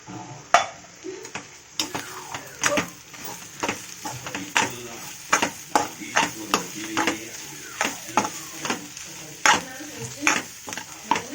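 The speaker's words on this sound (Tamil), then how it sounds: "நல்லா ஃப்ரை பண்ணிக்கணும்." Masala sizzling in a pan as it is stirred, with repeated scraping strokes of a spoon against the pan in an uneven rhythm over a steady frying hiss, close and fairly loud, with no talk.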